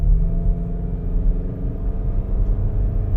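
A 2013 Hyundai with a power problem accelerating from about 25 mph, a low rumbling engine drone heard close from inside, steady and without much rise in pitch.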